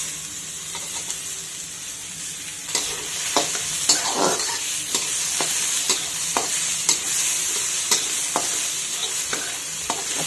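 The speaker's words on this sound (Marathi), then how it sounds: "आता याच्यामध्ये टोमॅटो आणि हिरवी मिरची टाकून घेऊयात।" Onion, green chili and tomato stir-fry in a hot pan for paneer bhurji, a steady loud sizzle broken by repeated close scraping stirs of a spoon against the pan.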